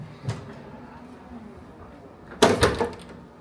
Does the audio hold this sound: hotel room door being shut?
yes